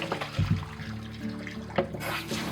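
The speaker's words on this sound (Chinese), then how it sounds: "清洗的时候，我们最好是用热水清洗，把浮沫给它洗掉" Hot tap water runs over blanched beef ribs in a sink, a steady splashing stream with a few louder knocks and surges as the meat is handled, close and continuous throughout.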